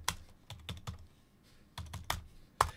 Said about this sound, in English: We can even experiment a little bit and type in a command